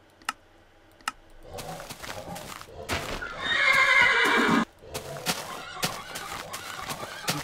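Horses from the Mo' Creatures mod in Minecraft, with a couple of sharp clicks, a loud whinnying neigh in the middle, and scattered hoof clip-clops and taps around it, no speech.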